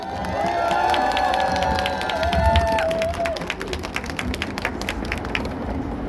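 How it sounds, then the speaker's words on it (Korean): At a rally in front of the presidential office in Yongsan, a crowd claps and cheers, loud at first over a sustained tone, then thinning into scattered, sharper individual claps toward the end. "다시 한번 박수 부탁드리겠습니다."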